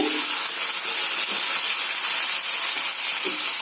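Fiddlehead fern greens stir-frying in a pan for an Assamese dish, giving a steady close sizzle and hiss with a few faint clinks of stirring, no talk.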